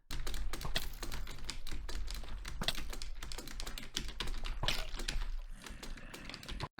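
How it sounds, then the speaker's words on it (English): Rapid, loud keyboard typing with hard, uneven keystrokes hammered in a dense barrage, close up and continuous until a brief stop at the end. "The guy who is slamming his keyboard randomly."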